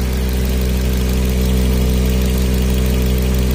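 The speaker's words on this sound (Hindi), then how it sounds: "अपनी गाड़ी अभी चालू है" A Maruti Ritz engine idles steadily with a loud, even low hum and no change in pitch, heard alone for a few seconds.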